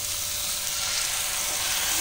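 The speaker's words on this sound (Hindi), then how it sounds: "तो अब हम इसमें डालेंगे हमारा टमाटर का पेस्ट" Tomato paste hits a pan of frying masala for a rohu fish curry, giving a steady, close, bright sizzle that holds evenly for a couple of seconds with no talking.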